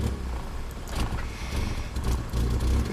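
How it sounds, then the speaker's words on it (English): A Subaru engine with a failing fuel pump idles unevenly and runs rough, a steady low rumble with irregular surges, heard close without talk. "this is what it sounds like when your fuel pump is developing problems"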